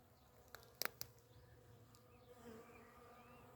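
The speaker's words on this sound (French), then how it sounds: "Regarde l'activité des insectes, il y a les petites abeilles là." Small bees buzz faintly around a self-sown flowering wild shrub in a garden, a soft continuous hum broken by a few sharp clicks, with no talking.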